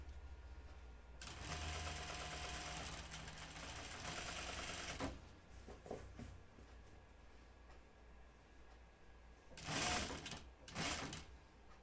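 A sewing machine stitches a bias facing onto a neckline in a long steady run of rapid mechanical ticking, then stops and gives a couple of shorter bursts, close but quiet.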